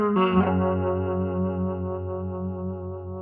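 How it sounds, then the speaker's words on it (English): A sustained electric guitar chord rings out after a quick strum, washed in reverb and a gentle pulsing harmonic tremolo as it slowly fades. "Let's hear a little reverb and a little harmonic tremolo."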